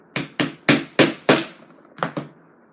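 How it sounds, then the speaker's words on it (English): Hammer strikes on a metal chisel punching stitching holes through calfskin leather: five sharp, evenly spaced knocks, a short pause, then two quicker taps, close and loud with no talking. "headphone warning again because the hammer's coming out"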